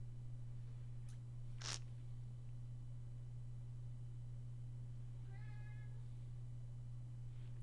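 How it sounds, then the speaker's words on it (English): A house cat meows once, close and fairly clear, with a fainter cry near the end, both over a steady low electrical hum and otherwise quiet room. "Kitty cat, shut the hell up."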